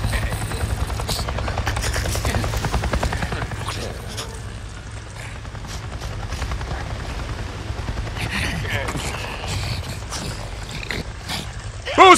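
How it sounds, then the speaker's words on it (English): Helicopter flying overhead in the Days Gone video game, a loud rhythmic rotor chop that peaks early, then fades into distance amid scattered game noises and clicks. "I just saw a goddamn chopper!"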